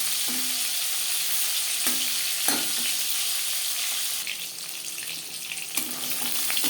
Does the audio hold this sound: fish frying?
yes